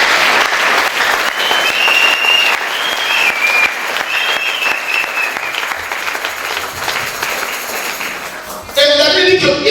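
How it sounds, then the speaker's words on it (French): A church congregation at a night of praise and worship applauds steadily, with dense, sustained clapping and some shouts and cheers rising through it. The applause ends abruptly near the end. "Est-ce qu'on peut acclamer le Seigneur?"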